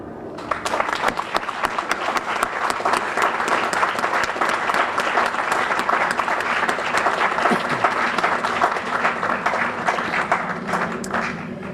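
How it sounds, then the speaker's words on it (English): A seated audience at a fire department ceremony honouring its heroes gives sustained applause, dense clapping from many hands that lasts the whole stretch at an even level with no talking. "asking you for a round of applause from the people that are in this audience"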